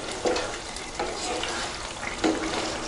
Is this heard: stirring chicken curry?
yes